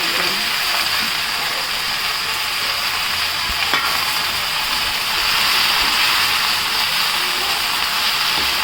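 A vegetable palya fries in hot oil with garlic in a home pan. The sizzle is loud, close and continuous, with soft stirring scrapes and a quiet voice now and then.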